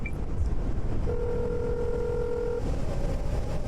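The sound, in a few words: phone dialing emergency number 112 in a video game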